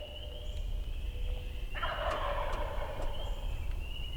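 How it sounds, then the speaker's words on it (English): Wild turkeys gobbling during spring scouting in Connecticut, a single rattling gobble rising out of steady background noise, moderately close. "right now they would gobble."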